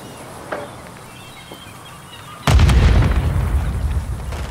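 Gunfire in Call of Duty Modern Warfare 3 multiplayer: after a quiet stretch with a few faint pops, a loud, sustained burst of rapid automatic shots erupts midway and continues to the end, close and heavy.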